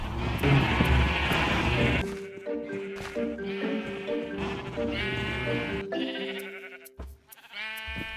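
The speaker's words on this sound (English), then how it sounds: "Now I just have to get a sheep in each one." Sheep bleating in Minecraft, several short nasal bleats in succession, repeated over a busy game soundscape, fairly close and clear.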